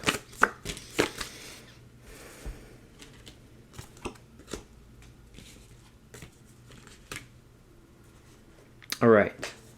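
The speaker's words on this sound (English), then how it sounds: "Just going to pull you some oracle cards and kind of see what we got going." Oracle cards being shuffled and handled during a reading, with soft scattered riffles and taps, then a brief louder flutter near the end, all close and fairly quiet.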